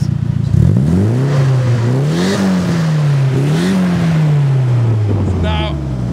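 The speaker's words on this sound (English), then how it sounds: "now we're running on all four cylinders" A Nissan S14 Silvia engine, now running on all four cylinders, revs up and down in several rising and falling sweeps, loud and close, with a rough exhaust note and wind buffeting the microphone.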